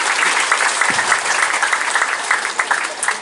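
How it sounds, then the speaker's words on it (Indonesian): Audience at a school farewell ceremony for departing students in Semarang giving a round of applause: loud, dense clapping from a crowd that stays steady throughout, with no talk over it. "Ya, kasih tepuk tangan."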